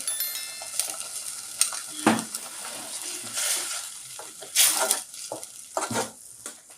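Onions sautéing in a pan for fish kulambu with salt, a soft sizzle under intermittent scraping and stirring strokes, with several louder bursts of stirring and clatter spaced irregularly.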